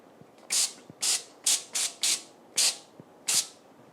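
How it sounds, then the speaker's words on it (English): A kitchen sink sprayer lets out seven short, close bursts of hissing water, each about a quarter second long, in an uneven rhythm with quiet gaps between. "we take this to the sink and give it a spray"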